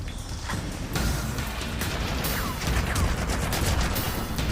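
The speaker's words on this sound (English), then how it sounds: "Okay, pretty heavy fire," Heavy gunfire in the shooter game Haze on PS3, a dense, continuous barrage of shots with sharp impacts and ricochet-like whines, loud and close throughout.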